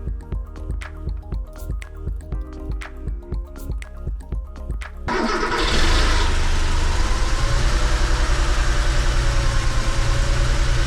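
Barn-find 1985 Porsche 911 engine cranks with rhythmic starter pulses, then catches and settles into a loud, steady idle close by.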